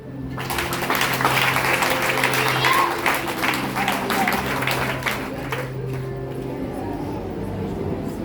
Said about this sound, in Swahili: Kama naongea ukweli, piga makofi.